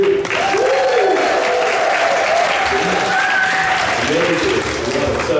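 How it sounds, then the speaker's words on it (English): An audience at a positive-aging community event breaks into loud, sustained applause, a dense wash of clapping that carries steadily from start to finish with faint voices mixed in. "Everyone give yourself a round of applause."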